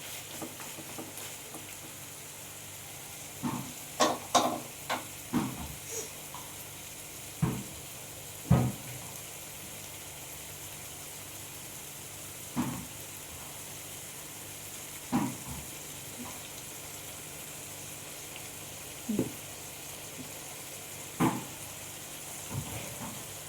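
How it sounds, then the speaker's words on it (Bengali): Mutton with ginger and garlic frying in a pan, a soft steady sizzle punctuated by a series of distinct clanks and scrapes from stirring at irregular intervals. "ভালো করে আমি মাংসের সাথে আদা রসুনটা দিয়ে ভালো করে আমি 4-5 মিনিটের মতো কষিয়ে নেব"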